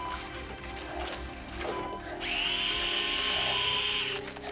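A battery-powered intraosseous drill runs near the end, whining steadily for about two seconds and seeming to bore into bone to place an IO line during a pediatric resuscitation, with faint background clatter and no speech.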